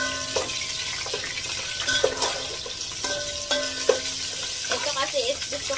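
Tomatoes cooking in a pot for sinigang na hipon, a soft steady sizzle and stirring close by, with light scraping and clinks of a utensil and some watery splashing, no voices.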